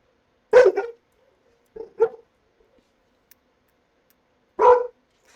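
Dogs barking in the Manhunter 2: San Francisco video game, a couple of short bursts of barks with a long quiet gap, then one final bark, fairly close and alone.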